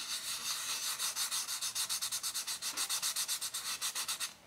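Fingertip rubbing back and forth over a laser-engraved surface sealed with lacquer, a rapid rhythmic scratchy swishing of dozens of quick strokes, close and fairly quiet, stopping at the end.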